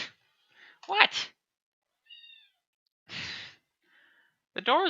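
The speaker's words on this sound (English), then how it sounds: "Pardon me, the cat wants out of the room." A house cat meows several times to be let out of a room, short rising and falling calls spaced apart between silences, with a voice talking in the room near the end.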